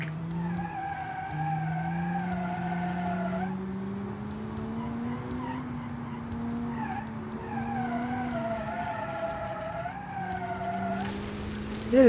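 A 300HP AWD hatchback in BeamNG cornering hard, tires squealing in a long steady howl with wavering pitch over a droning engine, ending in a sharp bump.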